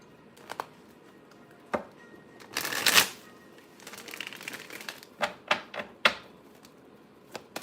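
Tarot cards shuffled and drawn during a live spiritual reading: a burst of rapid riffling near the middle, then a string of separate sharp card snaps and slides, close and fairly loud with no talk.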